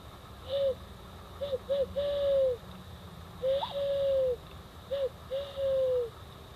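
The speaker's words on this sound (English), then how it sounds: "There's owls hooting back and forth." Owls hoot in a repeated pattern, each call a soft, drawn-out note, several calls answering one another against a quiet outdoor background.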